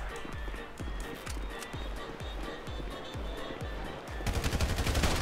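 Rapid, steady bursts of gunfire from the GTA V Online video game, with a denser, louder barrage of shots near the end.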